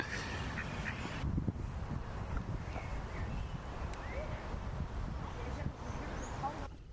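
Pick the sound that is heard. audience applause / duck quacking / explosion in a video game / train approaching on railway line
duck quacking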